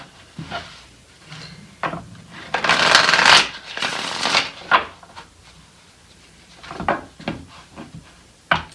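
Tarot love cards are shuffled and drawn up close, with a long, dense riffle in the middle and lighter slides and taps of cards before and after.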